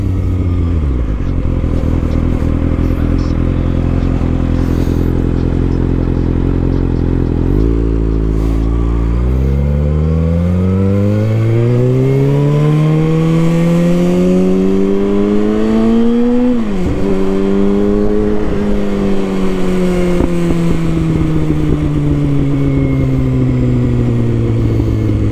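A Kawasaki ZX6R sport motorcycle rides along a road, its engine loud and close throughout, the pitch dropping as it shifts, then climbing steadily through the revs with a brief dip before rising again.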